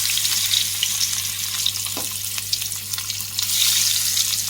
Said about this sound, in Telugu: ఈ ఆయిల్లో ఇలా ఫిష్ వేసేసుకుంటాం